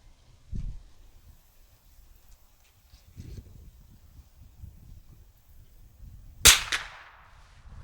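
Rifle shots from a Walnut Hill target rifle firing pistol match special ammunition at an outdoor range: one muffled report, then a single louder sharp crack with a brief tail, separated by quiet wind noise.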